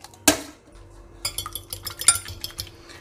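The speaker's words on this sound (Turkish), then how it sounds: "iyice çırptığından emin ol. Tamamen birbirine girsin yumurta." Two eggs whisked in a bowl for Turkish fried brains, the fork or whisk clinking and tapping against the dish in an irregular run of quick strikes after one sharp initial clank; no talking.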